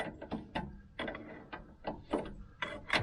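Ratchet wrench tightening the hub nut during a rear wheel bearing replacement, giving bursts of quick clicking strokes separated by short pauses, close and fairly loud with no talking.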